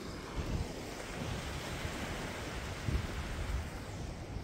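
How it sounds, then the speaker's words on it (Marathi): Sea waves roll onto Kashid Beach near Alibag, a dense, steady surf roar mixed with wind buffeting the microphone, with a couple of slightly louder swells breaking and no voices. "पाण्याची मस्त आवाज येतोय"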